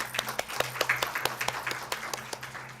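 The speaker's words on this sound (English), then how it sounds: "Once again, a big round of applause" Audience at a leadership and entrepreneurship panel claps in a loose round of applause, separate hand claps standing out clearly over a soft murmur throughout.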